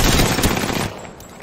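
RE45 pistol in the video game Apex Legends fires a rapid, loud, dense burst of shots lasting under a second, then fading.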